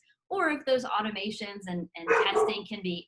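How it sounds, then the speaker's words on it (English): A dog barks repeatedly in a home setting, several quick yapping barks close to the microphone, mixed with a person talking over them. "sorry about my dog"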